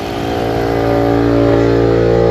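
A 5.7 Hemi V8 idles steadily at close range after a water pump replacement, a loud, even mechanical drone that builds slightly at the start and then holds constant, with no talking.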